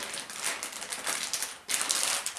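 A package of pet treats is torn and rustled open close by. Dense crinkling and crackling of packaging comes in uneven bursts, with a sharp louder burst near the end, and no speech is heard.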